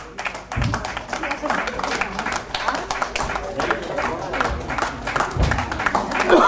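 Dense, steady clapping from an audience welcoming guests at a 2010 Tamil community dance and cultural show. It runs continuously at moderate loudness for the whole stretch, with some crowd movement mixed in.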